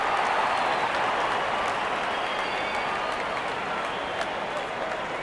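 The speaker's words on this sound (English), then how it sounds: "Wonderful 50, and the crowd applauds." Cricket crowd at a T20 World Cup match between West Indies and South Africa applauding a batsman's fifty, a dense sustained wash of clapping and cheering from a large stadium audience, fairly distant and steady throughout.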